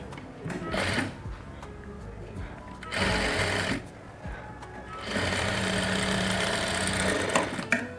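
A sewing machine stitches a 34-inch katori blouse in several steady motorized runs separated by short pauses, with a voice speaking during the gaps.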